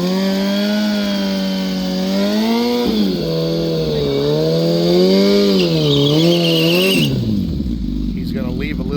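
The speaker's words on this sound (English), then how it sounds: "He had to really ride the bike, modulating wheel height with the throttle and clutch." A Gen 3 Suzuki Hayabusa drag motorcycle accelerates hard with a loud, buzzing engine note that wavers up and down under throttle modulation before dropping away near the end.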